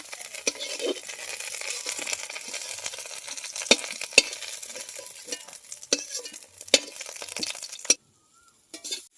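Potatoes fry in oil in a pan while cooking a thin rohu fish curry with drumsticks. A soft sizzle runs under repeated scraping and clinking stirs, then everything drops to near silence at the end.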